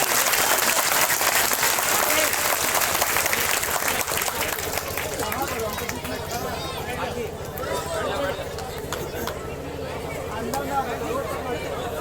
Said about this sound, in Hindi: और हम लोग इसलिए और संजय और जोरदार तालियों से उनका स्वागत करते हैं।